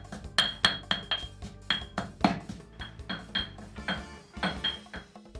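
Black pepper and garlic marinade is pounded in a mortar, making a steady run of sharp knocking thuds with a clinking ring. The pestle strikes come about twice a second and sound close.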